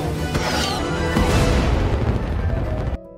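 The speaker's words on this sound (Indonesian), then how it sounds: "Chi dan Chow memasang kembang api yang membuat Banzo terbang dan meledak di langit malam" Cartoon fireworks bursting loudly across a night sky, a dense barrage of crackling booms and bangs that fills the whole clip before cutting off abruptly.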